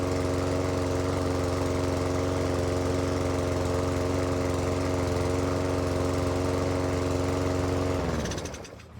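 A freshly pull-started petrol engine with new oil and fuel runs steadily at close range, a loud, even droning hum for several seconds before cutting off and winding down at the end.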